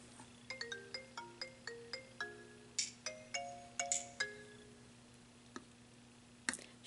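A phone ringtone plays a bright melodic chime, its notes repeating in a steady rhythmic pattern over a constant low electrical hum, fairly faint and with no talking.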